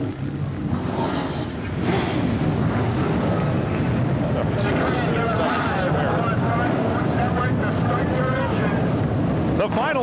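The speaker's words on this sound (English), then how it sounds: "Gentlemen, start your engines." Race car engines rumble and roar at the start of an AC-Delco Challenge Series stock car race at Jennerstown, a steady loud wash of engine noise with wind buffeting and an announcer speaking over it.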